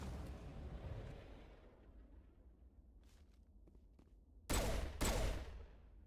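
Two sharp, loud gunshot bursts from Mass Effect play on Insanity difficulty ring out close together after a stretch of low rumbling ambience, with a few faint clicks before them.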